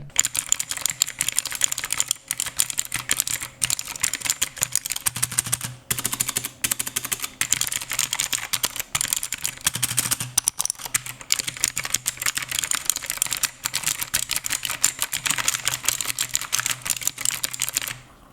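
Rapid typing on a Rampage Atom mechanical 60% gaming keyboard with blue switches, a dense stream of sharp, loud clicks close to the microphone with only brief pauses.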